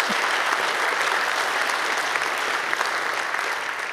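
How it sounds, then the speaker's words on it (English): Conference audience applauding at a hacker congress talk, a dense steady wash of many hands clapping throughout, fairly close and even in level. "The applause is for Kabul"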